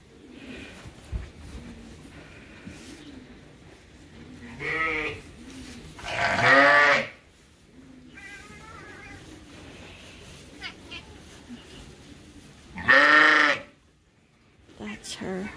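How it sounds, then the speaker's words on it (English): Sheep and an orphan lamb bleat in a group pen on a sheep farm, several loud calls rising at intervals with quieter bleats between, while a person speaks softly nearby. "I stuck the little orphan lamb in the group pen"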